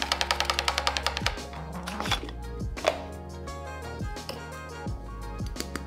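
Rapid mechanical clattering of a hand-cranked nut chopper chopping strawberries, a quick run of regular strikes at first, then irregular crunching and knocking bursts.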